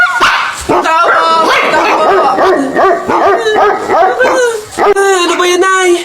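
Several dogs barking at night, a close and loud burst of yelps and howl-like barks in quick succession, with people talking over them.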